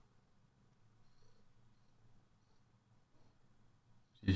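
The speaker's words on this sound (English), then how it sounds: "My cat is purring next to me." A pet cat purrs right beside the microphone, a soft, steady low rumble that holds for about four seconds before a sudden loud rustle at the end.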